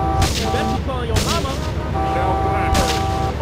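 Gunshots ring out in GTA 3 with the Real Mod, three sharp, loud booming reports spaced roughly a second apart over a steady game soundtrack, with someone talking over them.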